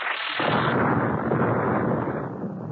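A loud, rumbling explosion bursts and roars on, a dense wash of noise that slowly begins to fade.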